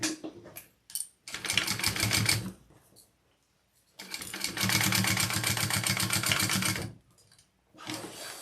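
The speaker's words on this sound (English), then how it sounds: "I'm gonna baste that connector on." Sewing machine basting a connector onto a baby sling, running in three bursts of rapid mechanical stitching with short quiet gaps between, close and clear.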